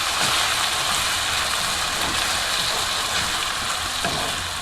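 Shrimp in tomato sauce stirred in a frying pan, giving a steady, dense sizzle with faint scraping of the utensil, close and continuous throughout.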